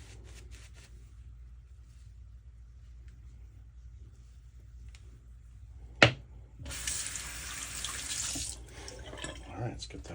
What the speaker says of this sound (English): let's get that rinsed off.